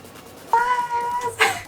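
A single cat gives a short, clear meow, then a brief higher chirp, close by in a Japanese cat café, over a quiet background murmur.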